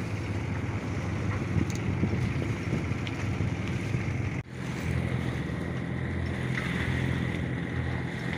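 A sailboat motoring under engine and mainsail, with no wind but a swell: a steady engine drone, wind rushing over the microphone and water sloshing continuously throughout.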